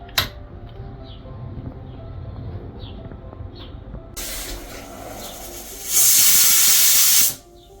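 A pressure cooker cooking spiced pork lets off steam in a loud, sustained hiss that cuts off abruptly, after quieter background noise with faint distant birds cooing.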